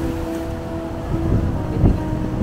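Strong coastal wind on a Hawaiian shoreline rumbles and buffets the microphone in low, uneven gusts, with a faint background hum and a soft surge of surf beneath.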